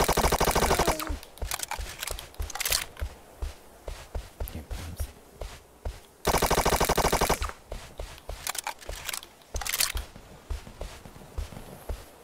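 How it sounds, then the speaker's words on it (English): Video game gunfire crackles in rapid bursts, with long automatic volleys near the start and middle and scattered single shots and footstep-like clicks in between. "I hear shots landing."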